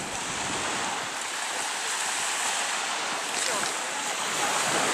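Waves wash onto the shore of Lake Superior in a steady, continuous roar of surf, with wind buffeting the microphone throughout.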